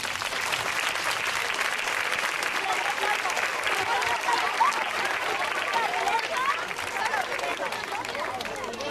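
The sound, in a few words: audience applause welcoming performers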